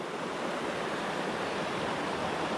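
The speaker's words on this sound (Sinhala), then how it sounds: "ලස්සනට සීත ගඟුල ගලාගෙන බහිනවා පල්ලෙහාට ඔහම." A cold mountain stream on the Sripada hiking trail rushes downhill in a constant, dense roar of flowing water, close and steady with no other sounds.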